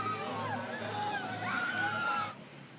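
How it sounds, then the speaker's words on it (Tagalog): Crowd of protesters at an anti-corruption rally in Davao City shouting and wailing together, a sustained mass of raised voices that cuts off abruptly near the end. "umalingaw-ngaw ang sigaw ng hinaing ng iba't ibang grupo dito sa Davao City"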